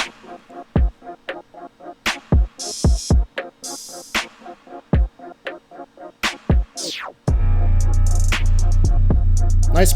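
A hip-hop beat made in FL Studio plays loud and clear, with a piano riff over punchy drum hits and sharp percussive accents that give way to a dense, sustained bass-heavy section near the end.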